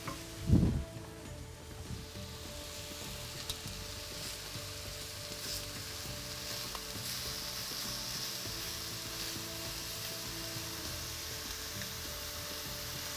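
Chicken pieces sizzle and fry in a hot pan while browning on both sides for butter chicken, a steady hiss throughout after a brief clatter at the start, with no talking.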